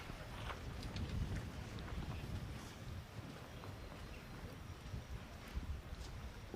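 Wind blowing across an outdoor pétanque terrain during a Masters semi-final at Le Puy-en-Velay, a steady low rumble of gusts buffeting the microphone with faint scattered sounds throughout, no talk.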